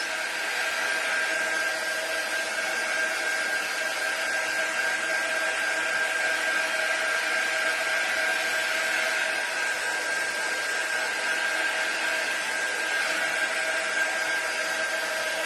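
A hair dryer blows focused, slightly warm air to dry chalk paste on a painted patriotic sign, giving a steady, even whir with a constant motor whine that holds unchanged throughout, with no talking.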